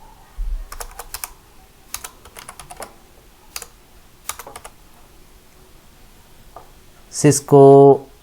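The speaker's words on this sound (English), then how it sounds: "I am just going to type Cisco" Quick clusters of computer keyboard keystrokes, soft and close, come in short bursts separated by pauses, with a brief louder electronic tone at the end.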